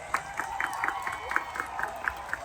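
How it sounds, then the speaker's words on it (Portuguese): Audience at a CTG event in Jaguarão applauding a colonel's family as they are welcomed, a steady wash of clapping with regular sharper claps over a busy crowd murmur. "Recebam com uma forte salva de palmas a família do Coronel Baiar Bretanha Jaques"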